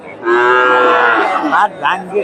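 A Friesian cross bull at the Dhap cattle market in Bogura gives one loud, close, sustained moo that breaks into shorter rising groans at the end.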